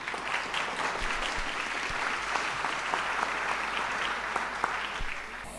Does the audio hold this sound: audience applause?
yes